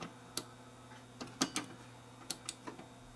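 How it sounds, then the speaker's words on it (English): A few small plastic clicks and taps, quiet and close, scattered over a low steady hum, as the lamp door of a Sony VPL-VW60 LCOS projector snaps into place. "Now when I put the door on, we should hear it click."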